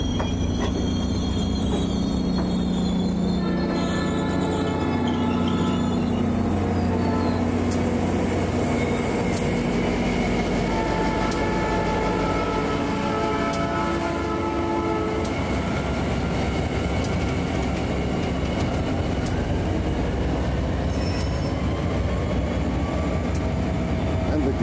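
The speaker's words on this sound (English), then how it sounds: "Locomotive." A locomotive-hauled train rolls past near a canal and railway line, a steady loud rumble of wheels and wagons with rail clatter and faint squeals throughout, no voices.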